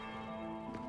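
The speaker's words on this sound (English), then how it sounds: "That's the bell." A bell rings in the game Dragon Age Inquisition, a sustained resonant tone with steady humming overtones held throughout, with no talking.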